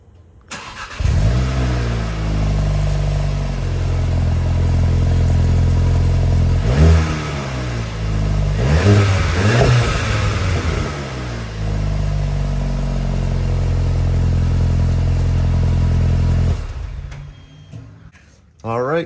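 A brand-new Volkswagen MK7 GTI with a Borla S-Type sport exhaust starts up close by, then settles into a deep idle broken by a couple of sharp revs before shutting off near the end.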